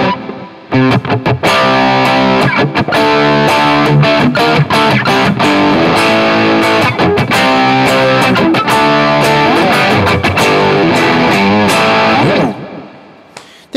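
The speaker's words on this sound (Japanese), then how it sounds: "で、ディレイを入れて、実際弾いてみると。" Distorted electric guitar played through a Zoom G2FOUR multi-effects unit with amp simulation, delay and reverb, a loud, continuous run of notes and chords with echoing repeats, trailing off into a fading tail at the end.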